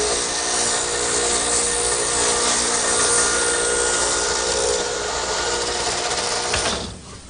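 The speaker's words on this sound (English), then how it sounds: "I've set up my stacked dado head cutter in the radial arm for a 3/4 inch width, adjusted the height, and now I'll be able to plow out that material" Stacked dado head cutter set to 3/4 inch width on a radial arm saw, plowing dados through wood with a sustained loud whirring grind that fades out at the end.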